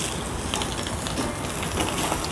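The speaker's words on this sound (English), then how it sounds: "So then we sear off the skin, make it nice and crispy." Sockeye salmon skin searing in olive oil in a pan, a steady close crackling sizzle with dense fine spatters running continuously and evenly throughout.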